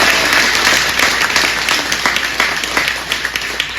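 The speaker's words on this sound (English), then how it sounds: "give her a round of applause" A room of people at a Republican candidates' gathering breaks into a round of applause for a school board candidate, dense clapping that thins toward the end into a few distinct claps.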